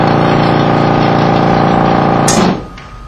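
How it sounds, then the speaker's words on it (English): An unbalanced motor with an internal counterweight bolted to a steel block, running with a loud, steady hum and rattle, then switched off as the drone winds down sharply near the end. "I'll turn the motor on and we can see it's got a bad balance problem"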